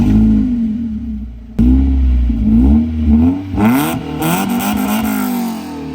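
A Mazda MX-5 engine, raised on a jack with no exhaust back box, revs up and down loudly and close, with a raw, rattly unmuffled roar between bursts.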